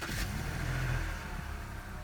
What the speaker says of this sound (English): now we're going to start the vehicle and see if it starts